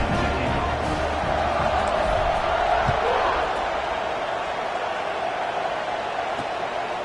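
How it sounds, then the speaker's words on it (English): A football stadium crowd at a Tennessee versus North Carolina game keeps up a steady, broad roar after a fourth-quarter score, while a commentator talks over it. "this crowd is buzzing after that last score"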